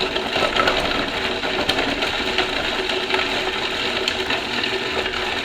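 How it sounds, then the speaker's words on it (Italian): A block of pecorino cheese is grated steadily and continuously, a close, dense rasping scrape with no pauses and no talking. "iniziamo grattugiando il pecorino"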